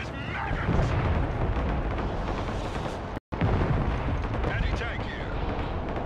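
Artillery fire and explosions in the video game Broken Arrow form a dense, continuous rumble of blasts with one brief cut in the middle, while voices talk over the din.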